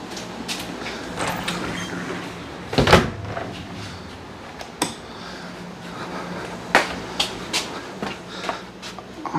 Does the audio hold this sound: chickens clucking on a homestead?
no